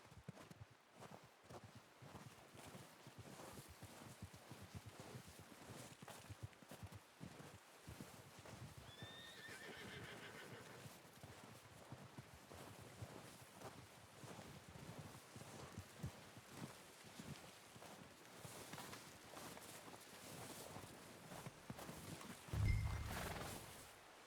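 A horse in the Western video game Red Dead Redemption whinnies and its hooves clip-clop at a walk, with rustling ambience under it and a louder snort or stamp near the end.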